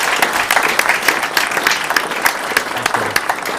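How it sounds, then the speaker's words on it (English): An audience at a technology talk breaks into a sustained round of applause, many hands clapping with an uneven, crackling texture throughout. "So if we'd all give him a round of applause,"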